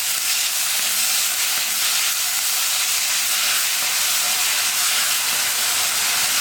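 Chopped banana flower with a sprig of curry leaves sizzles in a pan as one continuous loud, even hiss for several seconds, with no voices.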